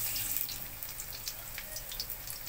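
Water poured into a pan of garlic and shallots sautéed in oil, a steady hiss and splash with bright sizzling crackle running throughout, close and fairly quiet.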